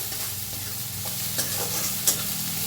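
Onions from two large chopped bulbs fry in a pan for dhaba-style dum aloo, giving a steady close sizzle with a few sharp scrapes as a spoon stirs them, no voices.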